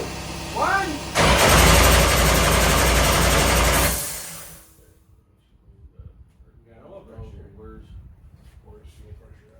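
A billet 500 cubic-inch small-block Chevy cranks and fires for the first time, a loud roaring burst lasting a few seconds before cutting off, followed by people talking.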